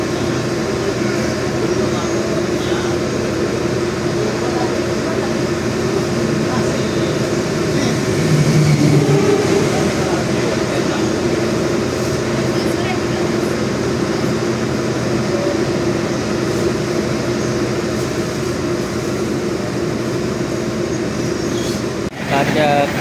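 An Airlangga economy-class train departing Bekasi station, with a steady loud rumble of the moving train throughout and a voice talking over it.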